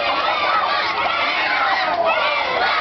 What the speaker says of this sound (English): And listen to that crowd behind Kimba.